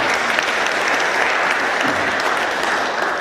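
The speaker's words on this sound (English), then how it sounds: "So give yourself another round of applause." A Rotary Club weekly meeting audience breaks into dense, sustained applause, a loud continuous wash of many hands clapping together that stays even throughout without any talking.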